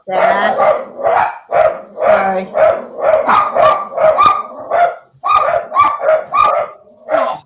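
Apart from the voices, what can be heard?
dogs barking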